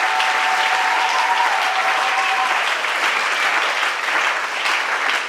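A church congregation applauds steadily and loudly throughout, a dense, continuous wash of clapping with faint voices mixed in, at a closing dedication service led by a bishop.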